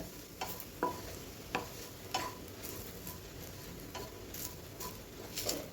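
Grated dry coconut roasting in a pan, with a utensil scraping and stirring in soft, irregular strokes over a faint, steady background hiss.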